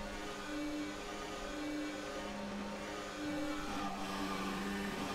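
Red Bull Formula 1 car engine from the F1 2018 racing game at Spa, Belgium, a steady high droning whine with layered harmonics that holds at a constant pitch, shifting slightly midway as revs change.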